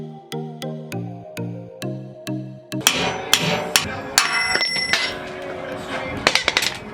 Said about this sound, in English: So then I started hammering through it, and now I'm just chiseling my way and sawzalling